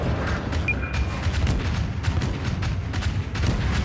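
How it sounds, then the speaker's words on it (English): The cruiser Phoenix fires a gun salvo in World of Warships, a run of deep booming reports with sharp cracks stacked over a steady low rumble, loud and near. "I'm gonna go ahead and fire that salvo off"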